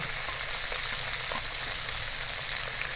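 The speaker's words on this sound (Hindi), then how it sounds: "इसको 2 मिनट हम फ्राई करेंगे।" Peas and carrots fry in a pan for mixed vegetable kebabs, giving a steady, close, even sizzle with no talking.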